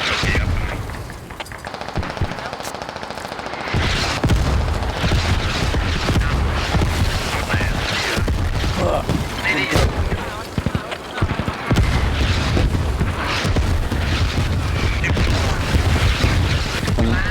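Gunfire and explosions in the video game Squad play loud and dense throughout, bursts of rapid shots and heavy booms overlapping in a continuous battle din.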